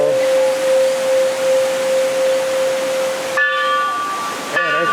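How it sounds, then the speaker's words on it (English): Tourists strike the temple bell at the White Temple. A steady hum runs under constant crowd noise, then two struck bell tones ring out about a second apart, each leaving a shimmering metallic decay. "the tourists lined up to hit the bell."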